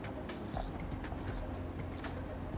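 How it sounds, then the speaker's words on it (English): Ratchet with a 6 mm socket loosening a hose clamp on a BMW F80 M3 air box, three short bursts of rapid clicking close up, spaced about two-thirds of a second apart. "Then take a 6 millimeter, you just very carefully undo this hose clamp."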